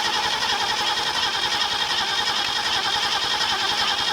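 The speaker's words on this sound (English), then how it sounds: "So I can hear it actually sparking," Ford Galaxie engine cranking steadily with its ignition points sparking, a loud continuous churning rumble with dense hiss running unbroken throughout, close by and with no voices.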